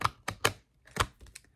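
Tarot cards being shuffled by hand, crisp papery riffling bursts in short clusters with brief pauses, close and fairly quiet, with no voice present.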